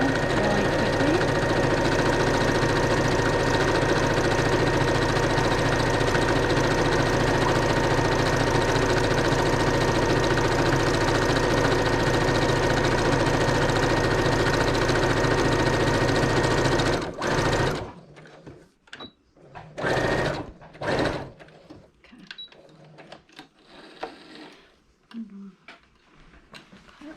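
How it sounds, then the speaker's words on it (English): A sewing machine runs steadily, stitching a fabric mask at speed for about seventeen seconds, loud and continuous, then stops abruptly, leaving a few brief handling sounds. "And then we're just going to sew really quickly."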